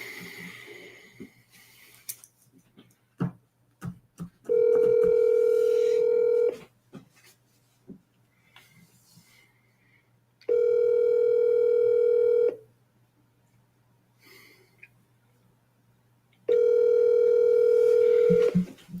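Phone line ringing during commercial real estate cold calling, three long steady electronic ring tones spaced about six seconds apart, loud and close, separated by quieter clicks and faint background noise.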